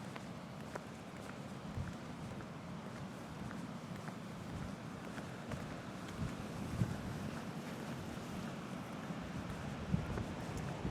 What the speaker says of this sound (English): So that was a good gust.